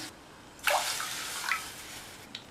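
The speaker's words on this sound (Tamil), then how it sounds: "1 கப் தண்ணி சேர்த்துடலாம்." Water poured from a cup into a pan while making kara kozhukattai: a sudden splashing pour that gurgles briefly, eases off, then gives a smaller second splash and a faint final drip, close and alone.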